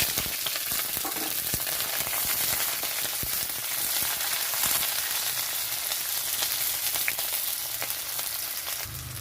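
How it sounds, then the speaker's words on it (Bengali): Continuous loud sizzling of green chili and onion frying in oil, nearby and unbroken, with faint clinks and scrapes of stirring throughout. "এখানে দিয়ে দিচ্ছি কাঁচা লঙ্কা পেঁয়াজ"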